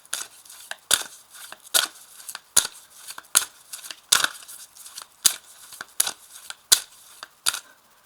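Tarot and oracle cards being handled and laid down to cover others, a series of sharp crisp snaps and papery slaps at irregular intervals, close and fairly quiet with no talking.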